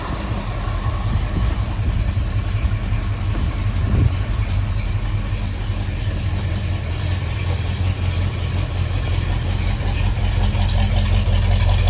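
A 1973 Ford Mustang coupe with a 351 Cleveland V8 and two-barrel carburetor idles steadily, a loud, even low rumble running unbroken throughout with no talk.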